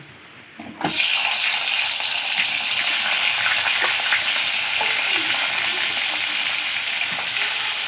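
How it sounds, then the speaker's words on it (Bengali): Spiced cauliflower florets dropped into hot mustard oil burst into a loud, continuous sizzle after a brief quiet start, holding steady and close with faint stirring underneath. "আমি আগে প্রথমে ফুলকপিগুলো ভেজে নেব"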